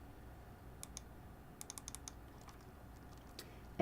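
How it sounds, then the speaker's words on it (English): Computer keyboard keys click in small, irregular clusters of quiet taps, like a short phrase being typed into a search field in a quiet room. "let's type in case control study"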